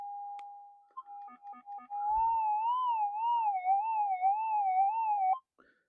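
A metal detector turned up to high gain picks up interference, giving a loud, steady electronic tone that wavers and warbles for several seconds before cutting off abruptly.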